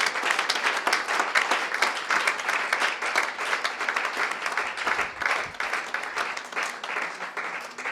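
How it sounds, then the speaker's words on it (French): A church congregation claps and applauds together, dense steady hand clapping filling the room without a break, loud and close. "Can someone clap to God?"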